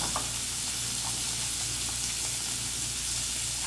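Atlantic wolffish fillet sears in a hot pan with a steady, close, even sizzle and crackle, faint stirring taps underneath and no voices.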